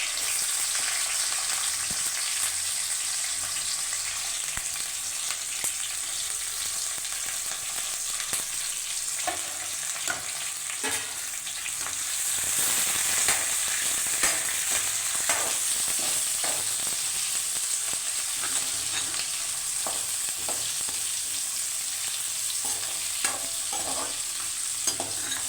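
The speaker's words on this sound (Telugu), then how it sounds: "ఉల్లిపాయలు పచ్చిమిరపకాయలు వేసుకుందాం" Onions and green chillies fry in hot oil with mustard seeds for a sea snail and drumstick masala curry, a continuous close sizzle broken by frequent scraping stirs of a spatula.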